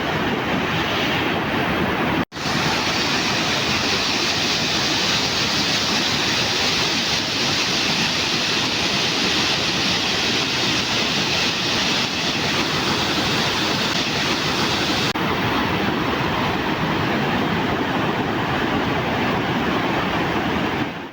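Floodwaters pour over the Kovai Kutralam waterfall near Coimbatore, a loud, unbroken broadband roar of rushing water that fills the whole stretch, with one brief dropout early on.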